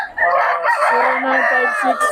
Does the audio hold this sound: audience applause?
no